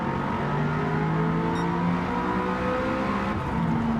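Audi TT-S coupe with a turbocharged V8 in Gran Turismo 7, roaring steadily through long gears at high revs, a loud continuous engine drone with a shifting pitch and no talk over it.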